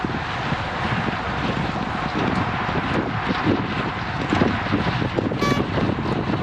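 Steady wind roaring into the microphone while cycling into a headwind on a false flat during a group pacing ride, a continuous broadband rush with gusty swells and no talk.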